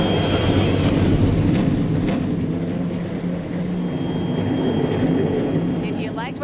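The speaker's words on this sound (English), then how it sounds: "Drivers, start your engine." NASCAR stock car engines fire up at Daytona before the 2013 Budweiser Duel qualifying race, forming a loud, dense, sustained roar that fills the clip with steady rumbling from many cars at once.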